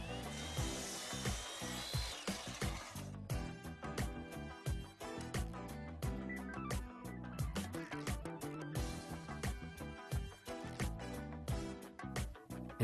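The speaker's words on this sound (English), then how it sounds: "For cutting the right side of an inside corner, your crown molding will again be supported by the Crown 45" Miter saw cutting crown molding held in a Milescraft Crown 45 jig for the right side of an inside corner, a steady whirring cut with bursts of blade noise and knocks, fairly close and with no talk.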